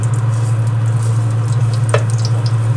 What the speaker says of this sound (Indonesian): Ini saya tumis jahe dulu supaya nanti seafoodnya itu nggak amis